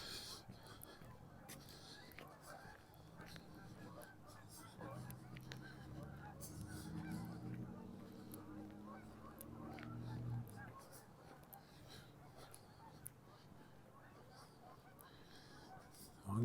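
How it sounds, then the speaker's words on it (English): Geese honk faintly and repeatedly as a long string of them passes high overhead outdoors near a dike in early December, the calls hanging low under wind and ambient noise, growing somewhat clearer in the middle. "Geese are still passing up there."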